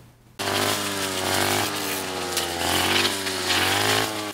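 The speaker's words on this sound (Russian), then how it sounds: "Сегодня в поселке Железнодорожный разносится вой триммеров." Several string trimmers cutting hogweed in the settlement of Zheleznodorozhny near Berezniki cut in abruptly with a loud, sustained whining drone that wavers slightly in pitch and runs without pause.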